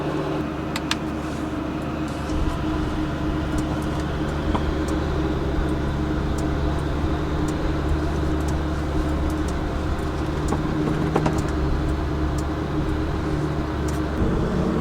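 A car on its first drive in traffic, a steady low engine and road rumble holding constant and close throughout, with faint clicks and no talk.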